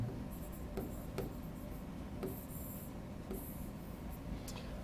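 Chalk or marker writing on a board during a classroom lecture, soft scratchy strokes arriving in short intermittent bursts over a low, steady room hum.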